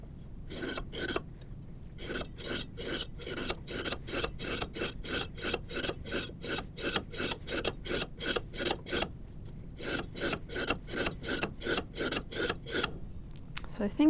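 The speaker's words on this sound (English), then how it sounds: "we're done with trimming the diameter of the specimen" Rhythmic rasping strokes as the diameter of a clay soil specimen is trimmed smooth for an unconfined compression test, about two dozen close, even scrapes in two runs with a short pause between.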